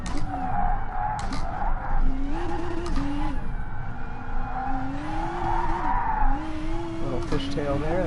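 A race car in the video game GT Sport fishtails and skids, its engine droning steadily while tires squeal in long sliding streaks, with someone talking over it throughout.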